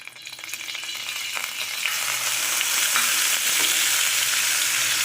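Grated onion hits hot oil over cumin tempering, the sizzle swelling into a loud, steady hiss with crackles and a few stirring scrapes, with no voices.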